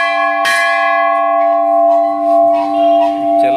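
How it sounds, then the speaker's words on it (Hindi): A large temple bell at the Chain Ram Baba shrine in Sahatwar, Ballia is struck once, a loud metallic clang that rings on in a long, slowly pulsing hum, with faint background noise. "बताइए घंटी कितनी बड़ी लगी, हम लोग घंटी बजाएं पहले"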